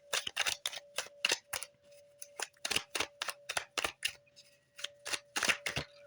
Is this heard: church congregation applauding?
no